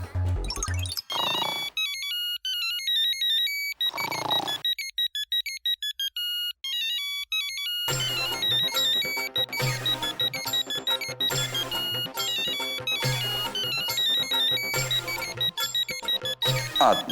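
A phone's electronic ringtone plays a looping melody of bright repeated tones, pausing briefly before starting up again and continuing loudly and steadily to the end.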